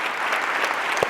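A brief burst of audience applause at a child protective system conference, dense steady clapping from a crowd with a single low thump near the end.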